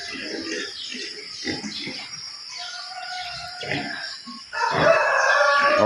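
Chickens cluck and call nearby over a steady outdoor hum, with a louder burst of squawking near the end; a voice murmurs faintly at times.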